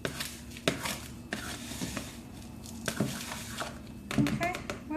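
Ingredients for a passion fruit rose milk bath soak being mixed: irregular soft taps, squishes and crinkly scrapes, close and moderately loud, with a faint voice in the background.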